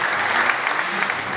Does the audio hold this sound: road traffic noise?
no